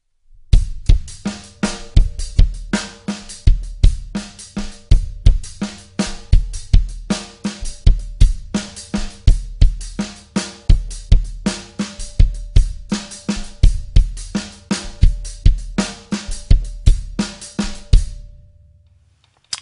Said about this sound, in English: So 2 with the right foot, 2 with the left hand.